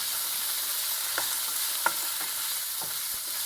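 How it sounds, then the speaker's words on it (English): Chopped sun-dried tomatoes sizzle steadily in a hot pan as a spoon stirs them, with a few soft scraping taps over the constant frying hiss. "I chopped the sun-dried tomatoes, so that goes in. Give it a good stir and let it saute."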